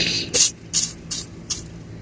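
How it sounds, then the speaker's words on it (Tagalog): WD-40 spray hits a dirt-clogged thread in four short, evenly spaced hissing bursts, close and loud with brief pauses between them. "So silitan muna natin ng spray muna natin ng WD-40."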